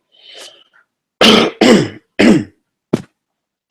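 A single person coughs and clears the throat several times in a quiet room: a soft throat-clearing rasp, then three sharp, close coughs in quick succession, followed by two shorter clipped ones.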